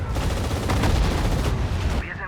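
Dense gunfire from a Sudden Strike 4 campaign battle, with rapid overlapping shots and bursts sustained loudly throughout, like a continuous close fusillade.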